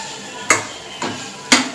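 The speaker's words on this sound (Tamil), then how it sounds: "ஆல்ரெடி செஞ்சு வச்சுருந்த முட்டையை போட்டு ஒரு கிளறிட்டு இறக்கிடுவோம்." Egg masala being stirred in a pan with a utensil, heard as three sharp metallic scrapes and knocks at an even half-second rhythm, close and clear, with no talking.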